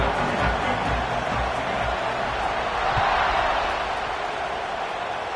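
A football stadium crowd waits for a kickoff after a touchdown and extra point, a steady, dense murmur and roar of many voices spread across the stands, with scattered shouts and thumps throughout.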